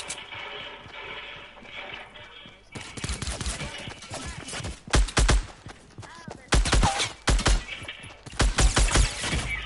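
Assault rifle fire in a PS4 online shooter, bursts of loud close gunshots in rapid volleys after a quieter start, with brief pauses between bursts.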